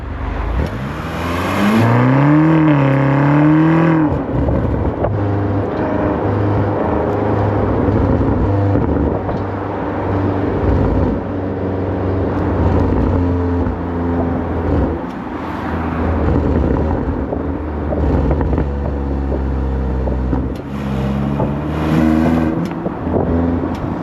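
A 2024 Range Rover Sport SV Edition One, rated at 626 horsepower, drives past, its engine rising and falling through loud revs and gear changes with a deep, steady rumble running through the stretch; close and prominent without talk.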